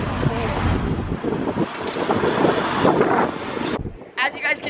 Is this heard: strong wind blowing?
yes